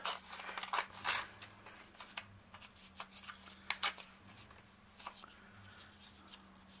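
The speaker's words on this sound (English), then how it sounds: "Let's just snip that off." Scissors snip through ledger paper for a craft tag project: a few crisp, close cutting crunches spaced irregularly, quiet, with faint rustling of paper between cuts.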